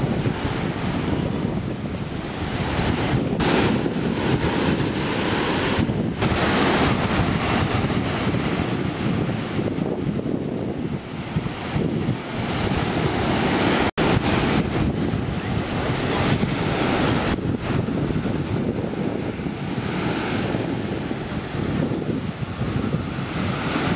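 Ocean surf rolls and breaks steadily during a surf session, with heavy wind buffeting the microphone throughout, loud and continuous with no voices.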